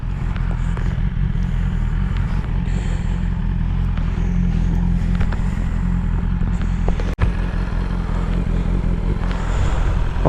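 A motorcycle rumbles at low speed and idles in a town street, with a steady close engine drone, occasional clatter, and one sharp knock partway through.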